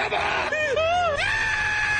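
A middle-aged male anime villain lets out a high, shrill scream pitched like a teenage girl's, sliding and wavering in a long, loud, close cry that carries through the whole two seconds.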